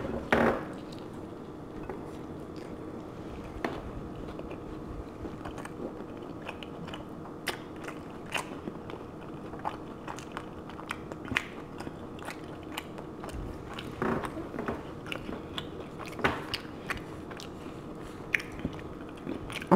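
Close, steady chewing and crunching of tacos at a mukbang meal, with soft repeated bites and mouth noises running continuously, no talking.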